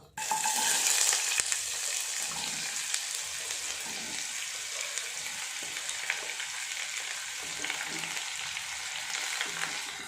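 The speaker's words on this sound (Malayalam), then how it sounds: "ഇനി നമുക്ക് നമ്മൾ എടുത്ത് വെച്ചിരിക്കുന്ന കട്ട് ചെയ്ത് വെച്ചിരിക്കുന്ന നമ്മളുടെ ഈ ചൗച്ചോ ഇട്ട് കൊടുക്കുക" Chopped chayote frying in a pan with mustard seeds and curry leaves makes a loud, steady sizzle close by, with soft stirring scrapes and no talking.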